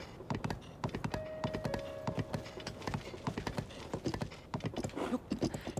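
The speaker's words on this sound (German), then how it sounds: "diese Pferde sind scheiße. Ich will stehen bleiben und es reitet nach links oder rechts." Horse hooves clip-clopping in The Legend of Zelda: Tears of the Kingdom, a close, fairly loud run of rhythmic hoofbeats that quickens toward the end.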